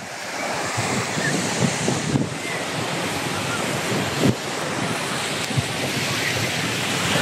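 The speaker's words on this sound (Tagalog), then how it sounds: "So yung background mahangin." Strong wind buffets a Honor X9b 5G phone microphone with a constant roaring rush, occasional thumps, and waves washing in the background.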